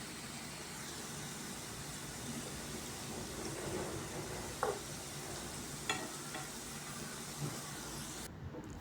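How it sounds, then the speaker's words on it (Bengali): Steady sizzle of potato and carrot fries frying in hot oil, with a few faint clinks and stirring knocks from a slotted spoon over a constant hiss. "তেলটা যখন হালকা গরম হয়ে এসেছে তখন হচ্ছে আলু গাজরগুলো আমি দিয়ে দেব"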